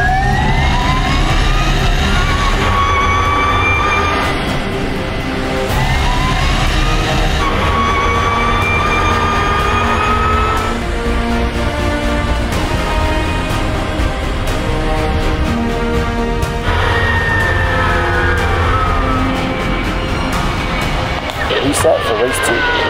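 A Qatar Airways Airbus A350 on its takeoff roll beside a Formula E race car, with a continuous loud roar and rising and falling whining engine tones under radio talk.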